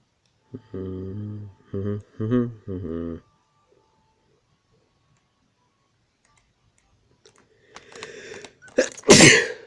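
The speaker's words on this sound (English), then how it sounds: "Couldn't stop sneezing." Person in a Dragon Quest 7 game scene sneezing, a loud sharp burst near the end that follows a few chiming tones and soft clicks, with no talk.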